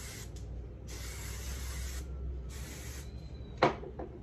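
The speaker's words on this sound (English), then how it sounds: "spray down." Three long hissing bursts from an aerosol hairspray can, close by, separated by short pauses, followed by a couple of soft knocks.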